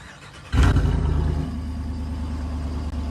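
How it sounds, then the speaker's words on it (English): A Jeep engine cranks and fires up, bursting into a loud, deep exhaust rumble that then settles into a steady, throaty idle, heard close with no talking. "I wanted you guys to hear this thing start up from the exhaust"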